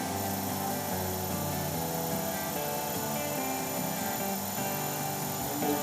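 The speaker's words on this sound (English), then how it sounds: "we'll just come in and start doing a little bit of sanding now." A lathe turning a resin shaving brush handle while sandpaper is held against the spinning workpiece, giving a continuous whirring hum with a soft steady rasp layered over it, close and unbroken.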